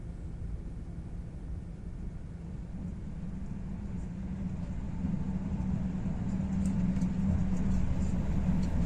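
The Torre del Oro passenger train bound for Barcelona approaches, a low steady rumble that grows gradually louder, with a faint high squeal near the end.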